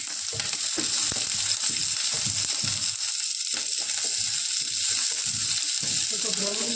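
Chopped onions sizzle steadily in a couple of spoons of hot oil in a home kitchen, a continuous bright crackle with occasional stirring scrapes and no talk over it.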